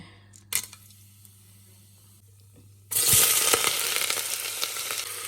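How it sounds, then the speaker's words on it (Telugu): Onions dropped into hot oil in a pressure cooker for a mutton curry, a sudden loud sizzle that starts after a quiet stretch with a clank and continues steadily up close. "ఉల్లిపాయలు వేసుకుని ఉల్లిపాయ బాగా వేగింది"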